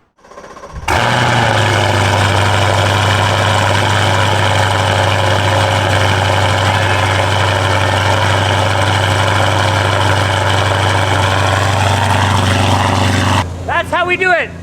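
A Chevrolet C8 Corvette with a full titanium exhaust and free-flow bypass starts up and settles into a loud, steady, droning idle held for about twelve seconds before cutting off.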